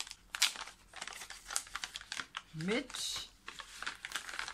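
Die-cut paper pieces being packed into an envelope, giving close, busy crinkling and rustling of paper with a few sharper crackles, running under a person talking.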